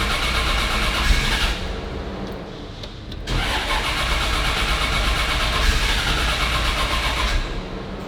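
A Porsche RWB engine cranks and catches, then settles into a steady, loud rumbling idle close by, with a brief dip partway through before the running note picks back up.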